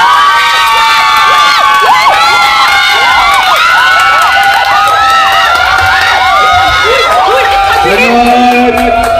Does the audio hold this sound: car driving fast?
no